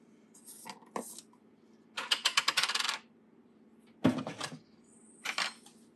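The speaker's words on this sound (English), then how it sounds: "Now I have to add salt to the jars." Teaspoons of salt drop into glass quart canning jars in four separate bursts of gritty clinking and rattling, each one brief and close, with quiet gaps between.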